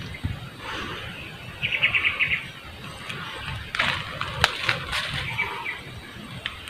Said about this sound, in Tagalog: Narinig na mga boses ng ibon